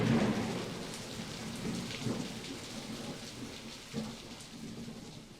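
Storm ambience with steady rain falling on surfaces and low rumbles of thunder swelling and fading, moderately quiet and continuous with no voices.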